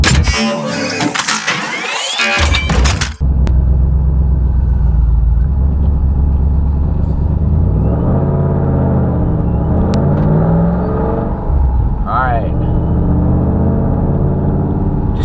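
A cammed Shelby fitted with a Kenne Bell supercharger starts with a harsh revving burst, then holds a loud, sustained engine roar with rumbling low end and squealing tire tones, engine pitch swelling and dipping near the end.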